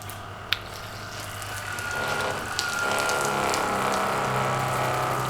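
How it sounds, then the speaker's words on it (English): Joolca camp hot water shower running, its gas burner lighting with a small click and then a steady rushing hiss of flame and flowing water that grows louder and holds. "I heard the burner going there"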